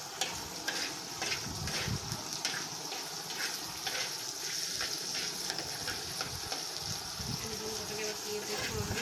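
Onions sizzle in hot oil in a pan while being stirred continuously for an okra fry dish, a steady frying hiss broken by rhythmic scraping strokes of the spoon, close and constant.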